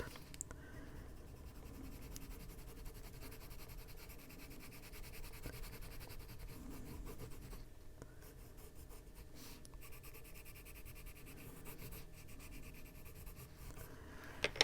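A hand rubs steadily across a colored-pencil page in an adult coloring book, a soft continuous papery friction heard close and quiet with no talking.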